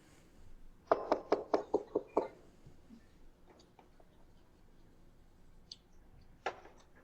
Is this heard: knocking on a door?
yes